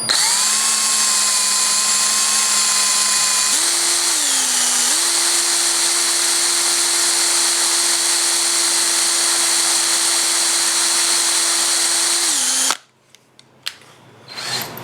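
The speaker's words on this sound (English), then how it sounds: "This drill bit's a little short, so I'm going to pull it out of the gun a little bit" A power drill bores out stripped cylinder head bolts on a Geo/Suzuki engine, a loud steady whine that shifts pitch once near the start and holds, then cuts off abruptly, leaving faint clicks and handling noises.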